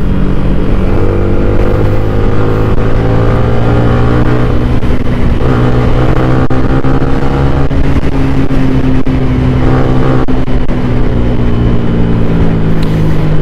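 Loud engines of four-wheel vehicles passing in traffic, heard from a moving Yamaha Sniper 155 motorcycle, a dense continuous roar with rising and falling engine drones, close and relentless, no talking.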